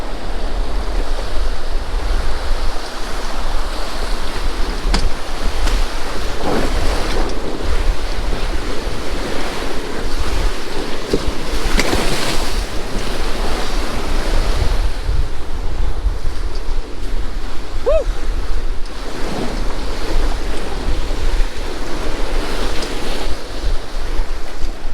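Class 3 river rapids in the Sierras rush loudly and continuously around a raft running a river-wide hole, with heavy broadband water roar and wind buffeting the microphone throughout.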